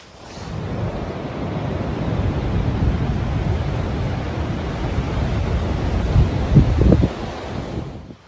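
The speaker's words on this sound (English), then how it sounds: "It's pretty windy. It got really windy last night." Strong wind at a winter tarp camp at a lean-to, a continuous low roaring gust buffeting the microphone, steady and loud throughout with a slight swell near the end.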